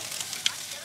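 Meat stir-frying in a pan gives off a steady, faint, hissing sizzle with a small crackling pop partway through.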